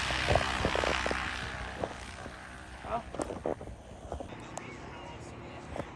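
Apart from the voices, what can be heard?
plane landing at an airfield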